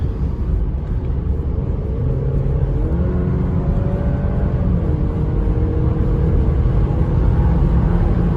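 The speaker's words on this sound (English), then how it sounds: "Passing a truck." A 2022 Alfa Romeo Stelvio passes a truck on the road, its engine and road noise a loud, steady rumble from inside the cabin, with the engine pitch rising and shifting as it overtakes.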